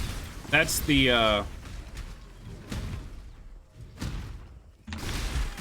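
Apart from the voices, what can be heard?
explosions in the video game Path of Exile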